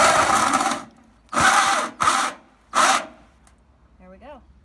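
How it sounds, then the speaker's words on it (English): A drill fitted with a hole saw bites through a plastic rain barrel in three harsh, grinding bursts separated by short pauses. A brief faint tonal sound follows at the end. "When you go to do this, you want to tilt your drill saw a little bit heavy on top to get through"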